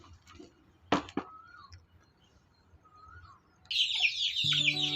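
Month-old chicks on a farm give a few high chirps, with a louder burst of dense, shrill peeping toward the end, near and fairly clear over a faint background.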